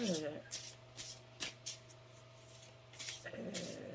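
Oracle cards shuffled by hand for a reading, giving soft riffling bursts at several points over a steady low hum, with a fuller shuffle toward the end.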